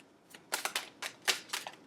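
Tarot cards are shuffled in quick, crisp bursts of riffling and snapping, several short close-up flurries with brief pauses between them, fairly quiet and with no talk.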